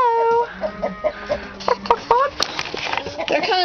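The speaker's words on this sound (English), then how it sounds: "And in the chicken coop... We have chickens." Several chickens in a chicken coop cluck and squawk close by in short, uneven bursts, with a person's voice mixed in.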